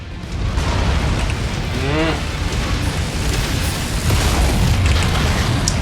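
Mech combat explosions rumble in MechWarrior 5: Mercenaries, a dense, loud wash of booming blasts and rocket impacts with continuous low roar, while a voice speaks briefly over the din.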